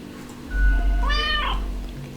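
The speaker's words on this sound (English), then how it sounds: "A delighted meow at the prospect." A cat in the video game Death and Taxes gives a single clear, rising-and-falling meow, short and close, over a quiet low hum of game music.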